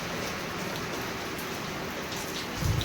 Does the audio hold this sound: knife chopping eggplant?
no